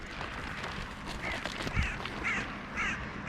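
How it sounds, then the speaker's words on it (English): Several crows caw outdoors on a very hot Sunday morning, four hoarse calls at moderate distance over constant broadband outdoor noise and traffic-like rumble. "it's nice perhaps just to have the crows here"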